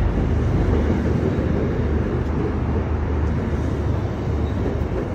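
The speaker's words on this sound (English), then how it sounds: "We've got a commuter rail train right here. That'll be leaving any second. Super loud." A commuter rail train pulls out of a station, a loud, steady roar of wheels and engine close by that holds constant throughout, with faint clickety-clack and no voices.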